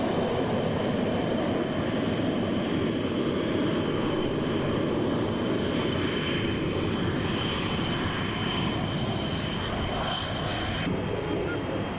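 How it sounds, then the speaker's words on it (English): A Boeing 747 jumbo jet passes with a steady, loud, broad engine roar that holds across the whole stretch, with a high whine above it and no talk. "Well, 747 jumbo jet."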